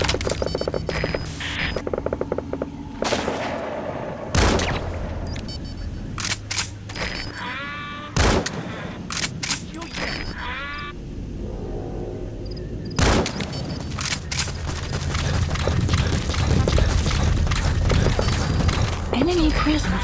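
Gunfire from the stealth action game Metal Gear Solid V: The Phantom Pain, sharp repeated shots and bursts cutting through loud in-game sound effects, music and voiced radio alerts across the whole stretch.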